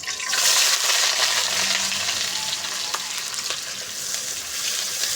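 Onions frying in ghee in a kadai, a steady broadband sizzle that holds continuously at moderate loudness with a few faint scrapes, no voices.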